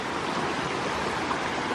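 A clear mountain stream rushes steadily along an autumn canyon hiking trail, a broad, even roar of water close by with no breaks and no talking.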